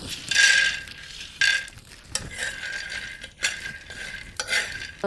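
Raw peanuts stirred and dry-roasted in a pan over a wood-fired village stove, a scraping, rattling stir in bursts with a faint sizzle, fairly close and without talk.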